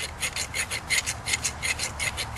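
A file or sharpener rasps along the edge of a handmade steel broadhead in steady back-and-forth strokes, each a bright scraping burst about a quarter second apart, close and fairly loud with no talk.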